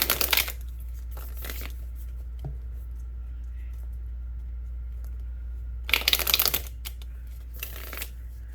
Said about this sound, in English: let's go ahead and get some cards pulled for you